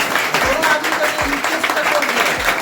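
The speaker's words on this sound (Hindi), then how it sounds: "सबको ताली बजाए" Continuous applause from an audience at an award event for teachers, dense and fairly loud, with a few low thumps underneath and faint voices mixed in.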